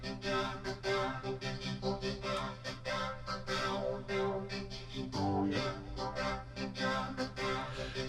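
Korg RADIAS synthesizer playing its Formant Beat vocoder preset, a dense, rhythmic, voice-like pulsing pattern with steady chopped beats and a brief tonal swell midway, loud and alone.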